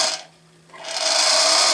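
A Manson tiny lathe with a bigger variable-speed motor driven by a Singer sewing machine foot pedal whirs loudly, briefly dips almost to silence, then spins back up to a steady high-pitched whine.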